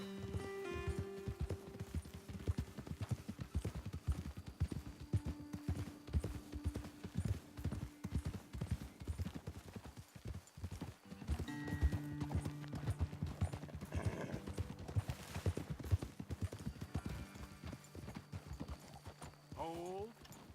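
Horses from Red Dead Redemption 2 clip-clop at a walk in an irregular, close hoof rhythm, with a whinny or two, while someone talks over the steps.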